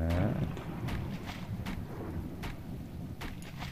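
A thunderstorm in the survival game Subsistence: a steady wash of rain and wind with a low rumble at the start, continuous and fairly close, with no talking.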